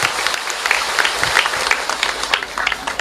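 A crowd at a religious gathering claps loudly and steadily, many hands close together in a dense, slightly uneven patter throughout.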